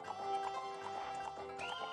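A horse trots in The Legend of Zelda: Ocarina of Time at Lon Lon Ranch, rhythmic clip-clop hooves over game music and ambient tones.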